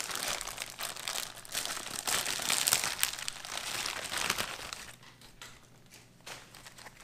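An MRE ration packet, a 2016 M.O.R.E. hot-climate enhancement pack, is torn open in a burst of loud, close plastic crinkling and tearing that continues steadily for several seconds before easing off to quieter rustles.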